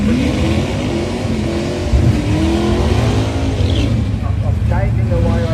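A Mopar car engine at a Mopar show idles and revs with a deep, loud rumble and rising throttle blips over several seconds, while people talk nearby.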